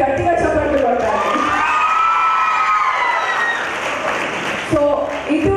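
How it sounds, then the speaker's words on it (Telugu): A crowd at a Disha app registration mega drive in Srikakulam district, attended by the district police superintendent, claps loudly with cheers and shouts. The applause swells and then fades, with a speaker's voice at the start and end. "ఇది ఒకవేళ నిజమైతే గట్టిగా చప్పట్లు కొట్టాలి."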